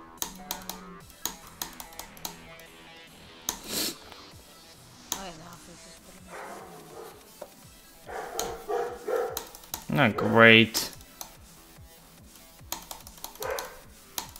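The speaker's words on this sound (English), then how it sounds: "Not my dog in the background." A dog barks in the background, a short yelping burst partway through, while a person talks over a game stream with keyboard clicks scattered throughout.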